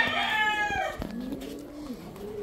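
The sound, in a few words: ice pigeon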